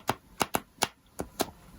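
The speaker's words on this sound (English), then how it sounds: "The cardstock is really fun to shuffle." A tarot or oracle card deck with plastic-coated cardstock is shuffled in a quick, uneven run of about seven crisp, papery riffles and snaps, close and quiet with no talk.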